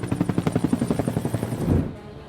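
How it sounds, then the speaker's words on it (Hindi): A rescue helicopter arriving at a flood and landslide site in Buner, Khyber Pakhtunkhwa, with a loud, steady rhythmic rotor thumping close by that swells into a heavier rumble near the end. "रेस्क्यू ऑपरेशन के लिए हेलीकॉप्टर पहुंचा तो परेशान हाल लोग उसमें चढ़ने के लिए भागे।"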